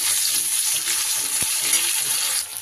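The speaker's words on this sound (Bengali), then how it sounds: "এবার এর উপরে দিয়ে দেবো একটা বেশ বড় সাইজের পেঁয়াজ কুচিয়ে রেখেছি, সেটা দিয়ে দিলাম।" Chopped onion is added to hot oil with cumin seeds and a bay leaf for a cabbage dish. It sets off a loud, even sizzle that holds for a few seconds, with one soft knock near the middle and no talking.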